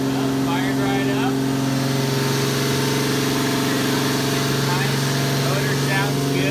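A turbocharged Lexus IS300 with a freshly cleared intercooler and new oil idles steadily and evenly, a loud, constant engine drone that holds throughout.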